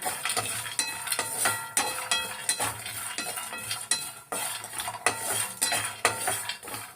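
Health drink ingredients are dry roasted in a pan, a spoon or spatula stirring and scraping in quick repeated strokes with metallic clinks, close and steady, no talking.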